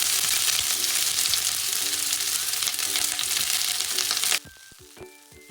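Onion frying in hot oil in a pan gives a loud, dense sizzle that runs steadily and then drops off sharply near the end, leaving quieter clinks and a faint tonal hum.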